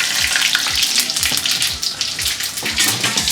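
Chicken pieces fry in hot oil at home. A loud, dense, crackling sizzle fills the whole stretch with continuous spitting pops close up.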